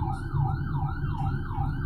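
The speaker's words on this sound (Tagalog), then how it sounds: "Ayun yung ambulansya mga trops, oh." An ambulance siren wails continuously on a road, its pitch sweeping up and down in a regular repeating cycle, loud and close, over a low rumble of traffic.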